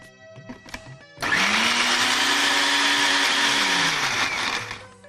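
A kitchen blender loudly whirs as it crushes a chutney of salt, cumin, lemon juice and a little water. The motor starts abruptly after a second of quiet and runs steadily near the mic, with the pitch shifting slightly as the mixture churns.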